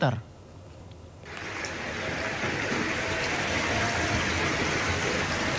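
Heavy rain pours steadily during street flooding on a main road in Duri Kosambi, a dense continuous hiss and rush of water that swells after a brief quieter moment at the start.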